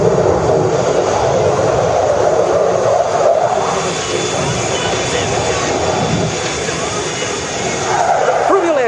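An Italian Air Force Eurofighter Typhoon jet flies at the Radom 2013 air show, its loud sustained engine roar filling the whole stretch while a commentator talks over the noise.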